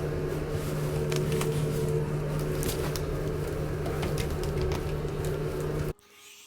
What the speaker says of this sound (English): I'm going to blow dry it